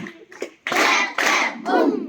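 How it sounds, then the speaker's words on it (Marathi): Village schoolchildren clap in rhythm, three loud group bursts of claps, the middle pair tight together, with children's voices chanting through them. "clap clap boom"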